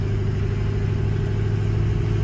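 A 2005 Ford F350 with a 6.0 Powerstroke diesel engine on giant tires runs loud and close, a steady low rumble with light throttle blips and no speech.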